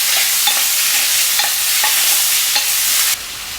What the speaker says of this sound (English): Saute it over high heat to about 1 minute.